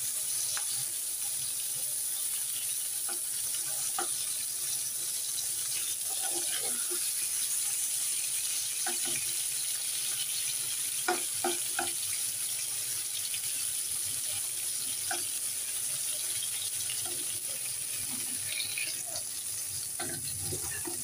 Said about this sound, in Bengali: এখানে বেগুন হচ্ছে মাছের মতো উল্টিয়ে পাল্টিয়ে 2 পিঠি